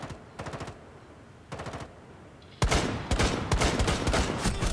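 Rapid automatic gunfire from Rainbow Six Siege, loud and close, with two short bursts followed by a heavier, sustained barrage of overlapping shots.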